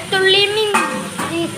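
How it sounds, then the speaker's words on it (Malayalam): Chicken curry being stirred in a pan, a close, loud burst of scraping and sizzling, with a voice briefly sounding over it. "ഇളക്കി കൊടുക്കാം"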